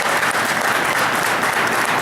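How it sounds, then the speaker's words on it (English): Crowd applause at a Cedar Point winter event tour, a dense, continuous burst of clapping that stays loud and even throughout its brief length. "Again, a big round of applause and thanks for Eric today."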